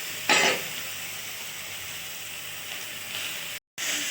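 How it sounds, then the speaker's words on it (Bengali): Cauliflower and potatoes fry in oil in a pan, a soft continuous sizzle broken by a loud burst as the pieces are stirred or tossed early on, then a brief cut near the end. "এবার এই ফুলকপি আর আলুটা অল্প অল্প ভেজে নেব।"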